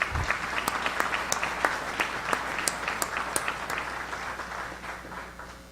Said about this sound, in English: Can I ask you please to give these folks a round of applause?